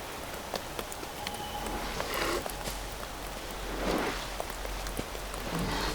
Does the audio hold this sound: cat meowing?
no